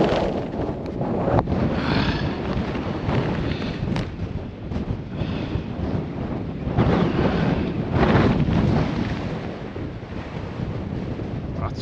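Strong wind buffets the microphone on a hill summit in the Cheviot Hills, a loud steady roar with gusty surges that swell and fade throughout.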